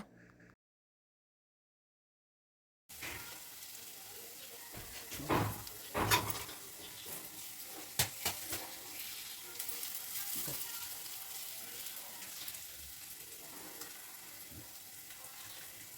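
Sliced onions fry in a hot pan with a steady, broadband sizzle that starts abruptly after a few seconds of silence, broken by a few sharper clinks and stirring scrapes near the middle.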